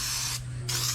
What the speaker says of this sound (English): we're going to spray it with some wax grease remover